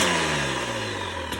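KTM dirt bike with an FMF aftermarket exhaust, engine revving loud and close with a raspy, throaty tone that slowly drops in pitch.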